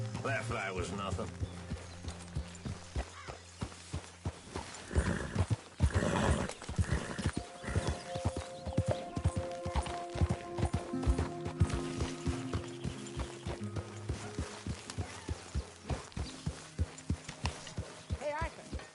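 Horse hooves clip-clop in a steady run in the video game Red Dead Redemption 2, with a horse whinnying and people talking over the hoofbeats.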